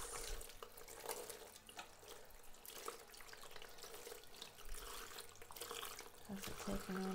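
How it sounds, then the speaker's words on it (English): Tap water runs steadily as a jar is rinsed at a sink, a continuous close splashing that goes on under occasional quiet talk. "Let's give this a quick rinse."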